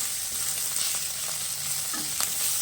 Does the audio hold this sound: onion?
yes